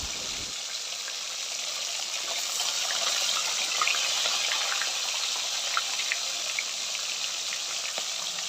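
Rohu fish pieces being washed with water, a steady splashing, running wash with small drips and trickles, close and continuous with no talking.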